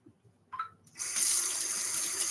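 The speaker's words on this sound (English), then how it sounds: "You rinse my hands." A kitchen tap is turned on and runs steadily as hands are rinsed beneath it, starting after a brief squeak and clunk, then gushing loudly and evenly at close range.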